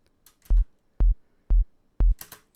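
Four evenly spaced deep thumping sine-wave techno kicks from the Serum synthesizer, short and punchy with a quick fade, sounding alone and close.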